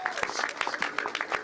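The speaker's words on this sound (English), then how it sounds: "please give her a big round of applause" Audience at a Save HISD news conference amid a TEA takeover threat, clapping in a brief burst of rapid, close applause.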